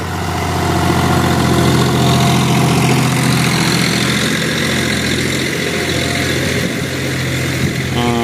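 A tractor engine runs in a farm field during tillage for growing greens, holding a loud, steady, low idle-like chug throughout.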